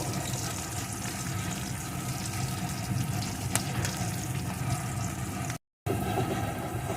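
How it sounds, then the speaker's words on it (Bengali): Whole garlic cloves frying in oil in a pan, giving a dense, continuous hiss and crackle that holds steady and close, with one brief dropout. "এখন রসুনের কোয়াটা একটু ভেজে নেব"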